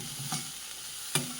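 Green chilli, ginger and curry leaves fry in a pan for masala oats upma, giving a soft low sizzle with a few light stirring scrapes near the start and end.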